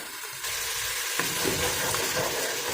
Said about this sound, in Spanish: vamos a freír muy bien este aderezo